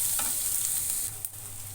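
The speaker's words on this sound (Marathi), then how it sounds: "आता ह्याला चांगला उलटा पालटा करायचा आणि भाजून घेऊया" Onion and carrot stirred and roasting in a hot pan, a steady close sizzle with soft scraping of the spoon, no voices.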